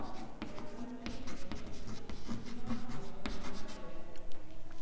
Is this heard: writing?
yes